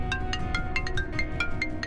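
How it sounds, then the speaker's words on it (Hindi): A phone rings late at night with a repeating electronic ringtone, bright chirping tones pulsing in quick regular bursts at moderate volume, no voices over it. "इतनी रात में कौन फोन कर सकता है?"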